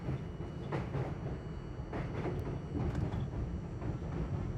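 A New York City subway train rumbles steadily along the rails at low volume, with a continuous low roar and a few soft rhythmic clacks and hisses, no voices.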